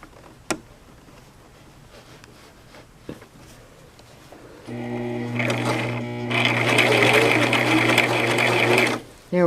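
A Brother LX 3817 sewing machine at a kitchen sewing table starts up after some quiet handling noises, running in a steady, close, mechanical whir that speeds up, then stops abruptly, while stitching a vest placket or dog harness.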